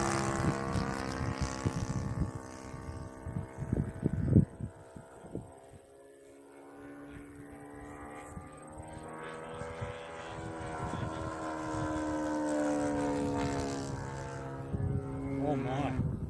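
Top Flite Bearcat RC model airplane flying at half throttle, its engine giving a steady buzzing drone that rises and falls in pitch as it passes, with people talking over it.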